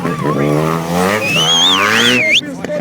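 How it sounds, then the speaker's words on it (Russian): Stunt motorcycle doing high-speed front-wheel drifts at a Kyiv moto show, the engine revving steadily with a high squealing tire whine rising and wavering near the end, as an announcer talks over it. "Сейчас он делает скоростные дрифты из переднего колеса и газа."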